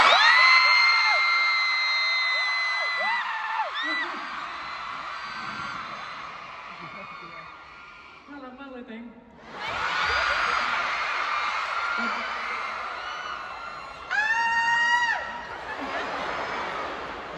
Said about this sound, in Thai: เฮ้ยเหมือนจะมีผู้คนอยู่ถ้ามีขอเสียงกรี๊ดที